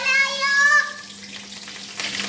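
Green chillies dropped into hot oil set off a brief, bright sizzle that quickly settles into a softer crackle, with a tonal chime-like sound at the start.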